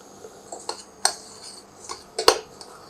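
A metal spoon stirs melting, caramelizing sugar in a pan, giving a few sharp scattered clinks and scrapes against the metal, close and distinct over quiet background.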